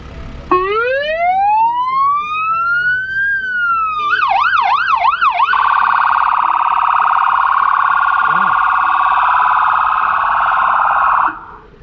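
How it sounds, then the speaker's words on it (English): A Hatzalah ambulance motorcycle siren sounds up close and very loud, first rising in a long wail, then warbling quickly, then holding a steady piercing tone before it cuts off. "It even has the lights and sirens."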